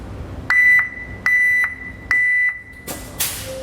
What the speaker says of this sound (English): a look at the Pollak Back Up Alarm